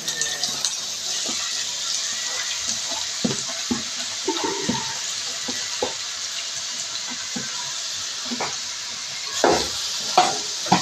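Onion frying in hot oil, a constant bright hiss with scattered spatters and occasional clinks of a spoon against the pan, close and steady.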